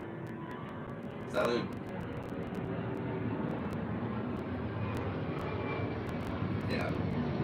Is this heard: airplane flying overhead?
yes